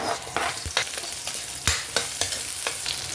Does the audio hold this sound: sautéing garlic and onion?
yes